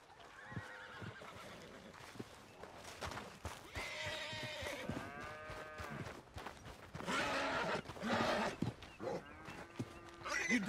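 Horse in Red Dead Redemption 2 whinnying and snorting, with hoof clops and farm-animal sounds around it, fairly quiet, in short bursts with pauses between.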